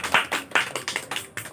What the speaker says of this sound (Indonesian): Mohon beri tepuk tangan kepada dia.